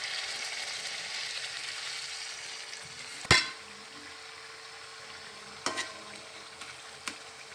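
Fish fries in a pan in a home kitchen, a continuous hissing sizzle with three sharp loud clacks of utensils against the pan and a faint low rumble underneath.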